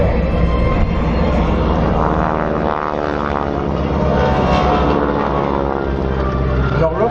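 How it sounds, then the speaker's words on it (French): Biplanes fitted with airbrakes above the upper wing fly at an air show in France, giving a loud, steady droning engine and propeller tone that rises and falls slightly throughout. "Les avions sont un peu handicapés par ces superbes aérofreins installés au-dessus de l'aile supérieure."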